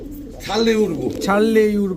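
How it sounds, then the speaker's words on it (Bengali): A pigeon from a fancy breeding pair coos while brooding on its eggs: two close, loud, throaty cooing phrases with a short pause between them, and nothing else heard. "একেবারে ডিমের উপরে আছে কবুতরটা"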